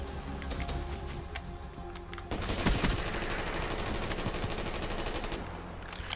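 Gunfire in a video game, a dense continuous barrage that swells louder partway through and holds steady, heard alone without talk.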